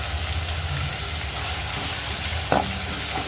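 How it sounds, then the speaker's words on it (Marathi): Spice paste (vatan) with poppy seeds roasting in a pan gives a steady close sizzle and hiss throughout, with a brief scrape or clink of the spatula near the end and no voices. "वाटण माझं भाजत आलेलं आहे"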